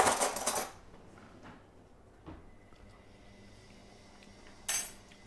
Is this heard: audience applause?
no